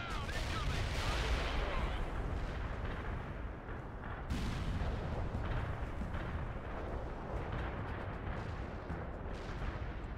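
An artillery barrage in World in Conflict hammers the target area with dense, overlapping blasts and a rolling rumble. The roar never lets up, with sharper detonations breaking through along the way and a radio-style voice speaking over the din.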